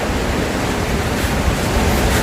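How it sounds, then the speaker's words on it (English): Ocean surf breaking on the shore at a surfing beach in La Union, a dense, loud, steady roar of crashing waves with some wind on the microphone and no voices. "I am on the shore with the surfers, some of surfers here in La Union, enjoying the waves"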